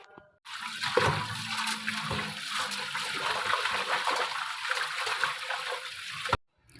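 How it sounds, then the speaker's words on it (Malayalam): Toor dal lentils for Kerala sambar being washed under running water, a steady close trickle and swish of water through the grains for several seconds, with no talking. "അപ്പോൾ നമുക്ക് പരിപ്പ് കഴുകിയെടുക്കാം."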